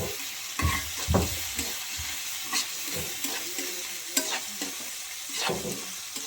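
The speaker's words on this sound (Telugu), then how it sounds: "అడుగు అంటకుండా మనం కొంచెం కలుపుతూనే ఉండాలి మధ్యలో మధ్యలో" Chopped ivy gourd pieces fry in a pan while being stirred, a steady sizzling hiss broken by repeated scraping and stirring thumps, close and moderately loud with no talking.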